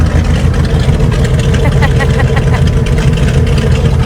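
Pontiac Tempest hot rod engine revving loudly and steadily nearby, a deep rumbling roar with dense low-end throb that holds for the whole stretch.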